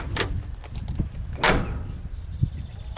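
Doors of a Chevrolet C20 pickup being opened and shut after door work, with a few close thuds and latch clicks and a louder solid slam partway through, plus light handling noise between.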